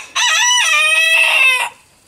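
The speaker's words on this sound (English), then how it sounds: "Fair warning that the rooster is noisy" A single rooster crows once, close and loud, in a long cock-a-doodle-doo with clear tonal harmonics lasting about a second and a half before fading out.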